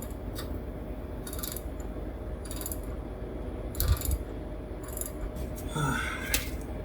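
A hand ratchet tightens bolts on a vehicle's steering linkage, giving short repeated bursts of clicking pawl spaced across a steady background hum, with a brief clunk midway.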